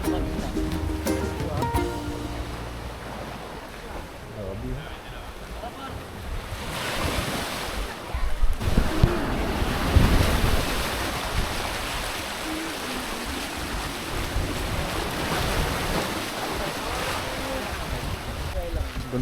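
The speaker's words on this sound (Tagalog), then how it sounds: "Ganda talaga ng dagat dito." Ocean waves at Bulabog Beach, Boracay, wash and surge steadily throughout, with wind buffeting the microphone and a swell that grows louder partway through; a boat may hum faintly in the background.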